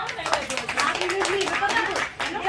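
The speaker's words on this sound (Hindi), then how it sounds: "ताली बजाइएगा।" Crowd applause at a protest sit-in, with dense, continuous clapping that fills the clip, sounding fairly close and steady with a voice faintly mixed in.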